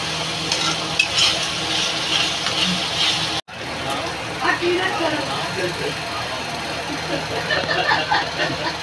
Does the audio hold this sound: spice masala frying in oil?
yes